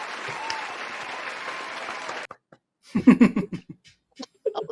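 Podcast hosts and their audience applaud at the return of the show, a dense burst of clapping that holds for about two seconds and then cuts off, followed by scattered laughter and talk.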